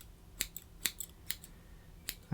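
Scissors trimming a dog's fur give a few faint, crisp snips at irregular intervals, quiet and close.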